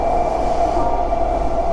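A train roars along the rails, a loud, dense, continuous rumble with a steady tonal whine running through it, heard close and alone without any voices.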